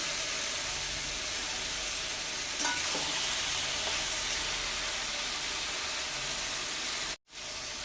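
Fish heads with a spoonful of sugar fry in a pan, giving a steady close sizzling hiss with occasional stirring knocks, ending with a brief cut, no speech.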